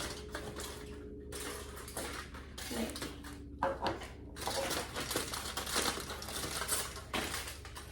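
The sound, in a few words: sliding a piece in and taping it in place on a solar oven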